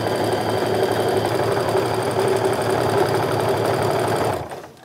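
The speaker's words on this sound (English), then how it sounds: "so that at least my corners are sewn by machine" A sewing machine runs steadily while stitching the corners of a tote bag, a loud close rapid mechanical whir that holds even and then stops near the end.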